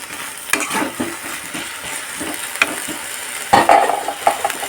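Potatoes and prawns are stirred in a sizzling frying pan, with a steady fry hiss broken by utensil scrapes and clinks, close and loud with no talk.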